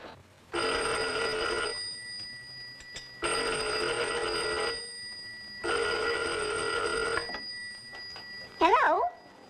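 An old-fashioned telephone bell rings in three long bursts separated by pauses, loud and close in a 1940s home, followed by a short warbling tone.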